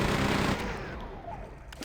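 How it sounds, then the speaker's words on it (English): Chaingun firing in Quake 2, a loud burst of rapid gunfire at the start that fades into a softer rattling tail. "And let's chain gun them down."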